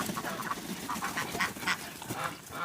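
A drake duck on a homestead farmyard quacks in a run of short, raspy calls that repeat at an uneven pace over steady outdoor background noise, fairly close.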